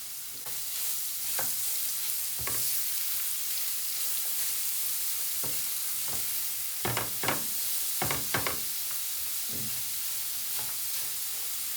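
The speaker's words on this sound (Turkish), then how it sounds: "Daha sonra rendelediğimiz havuçları ekleyelim ve 4-5 dakika daha kavuralım." Grated carrots sautéing in a pan for a Turkish carrot tarator, a soft steady sizzle with several distinct scraping stirs of a utensil clustered near the end, close and fairly quiet.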